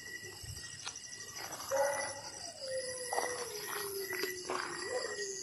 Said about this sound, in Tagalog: Kapag ganyan po yung tahol po ng isang aso